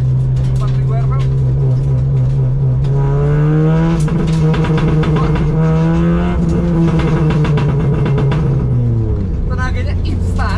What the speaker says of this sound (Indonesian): ketika dilepas gas itu ada suara ledakan-ledakan